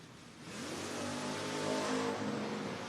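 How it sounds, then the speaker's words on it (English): Drag race cars launch at a Door Wars drag racing event, their engines roaring loud and steady as they accelerate down the strip, with no talk over it. "We have a drag race."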